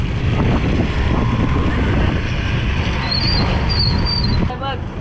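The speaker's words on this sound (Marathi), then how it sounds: "मित्रांनो आलेलं बघा रोरो बोट आता भरून तिकडून" A loaded RoRo ferry arrives at the shore near Virar with a steady engine drone and heavy wind noise, while people talk nearby and a few faint high beeps sound near the end.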